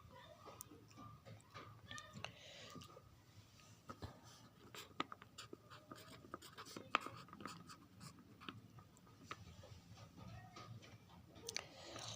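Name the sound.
teacher writing examples on a board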